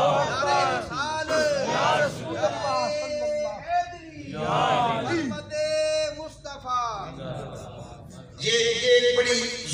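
A large crowd at a Seerat-un-Nabi conference shouting its reply to a takbir call, several loud collective chanted bursts that rise and fade in succession, with voices echoing in a big hall.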